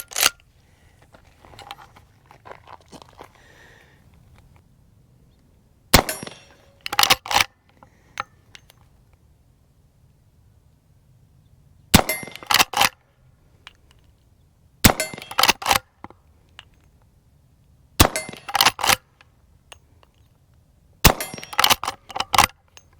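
A Winchester 1892 lever-action rifle fires 85 grain XTP bullets: sharp, loud single shots in pairs and triplets spaced a few seconds apart, with quieter handling and lever clicks between.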